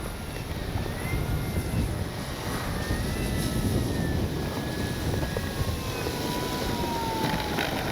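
A small E-flite Carbon-Z T-28 radio-controlled model airplane's electric motor whines steadily overhead, its pitch rising and falling as it flies past at a moderate distance.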